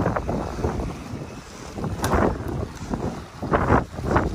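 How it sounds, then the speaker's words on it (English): Gusty wind buffets the microphone in uneven rushes while fishing, with no voices. "but it's too windy"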